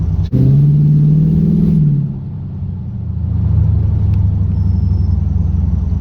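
A 1979 Pontiac Firebird Formula with an LS swap and stock truck ECU rumbles close by, a steady low idle that swells briefly at the start, dips, then settles back into an even throb.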